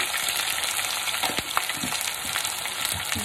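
Ginger garlic paste frying in a hot pan for a spicy Telangana-style chicken curry: a steady, dense sizzle and crackle close up, with a few sharper pops and stirring sounds and no talk.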